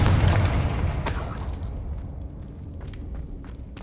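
A Confringo blasting curse explodes in Hogwarts Legacy, a loud booming blast at the start that decays into a rumbling tail, with scattered crackling debris afterward.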